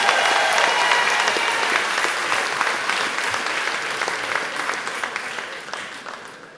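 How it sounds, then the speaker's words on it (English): Audience applause at a long service and recognition awards ceremony, a dense, steady wash of many hands clapping that starts full and slowly tapers over several seconds, with no voices over it. "can we have a round of applause for Lalita Chuto and Richard Morrison?"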